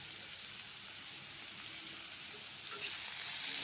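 Ginger garlic paste sizzles steadily in a hot frying pan while a home cook prepares a kolodil (banana flower) dish, a continuous hiss that swells slightly toward the end.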